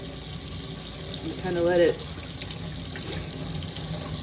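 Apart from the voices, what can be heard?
water running in a sink while soaking embroidery stabilizer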